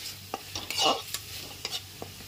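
Ginger-garlic paste frying with onions over medium flame for a pomfret fish curry: a soft sizzle under several quick spatula strokes scraping the pan, one longer stir in the middle, no voices.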